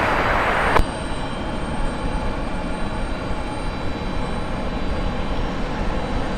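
A passenger airliner arriving from Toledo lands at Cleveland Hopkins airport, its engines giving a steady, fairly loud broadband roar that continues throughout after a brief louder burst near the start, with no speech.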